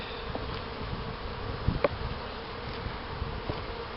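Honey bees buzz steadily around a hive during a trapout, a dense continuous drone of many insects close by, with occasional brief louder passes and no talking.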